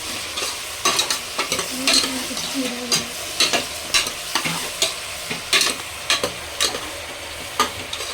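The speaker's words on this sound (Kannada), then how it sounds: "ಇದು ಬಿರಿಯಾನಿಗೆ ನಾನು ಫ್ರೈ ಮಾಡ್ಕೊಳ್ತಿರೋದು" Mutton chops fry in oil for biryani with a loud, close sizzle. Repeated spatula scrapes and clanks against the pan keep an uneven rhythm throughout.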